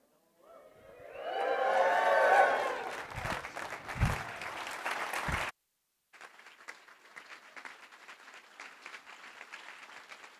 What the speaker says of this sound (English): if you would all be so kind as to give me a big cheer